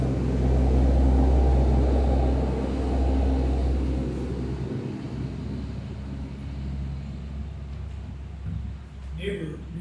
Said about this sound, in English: Neighbors are pouring a bunch of cement. That's big old cement trucks going by.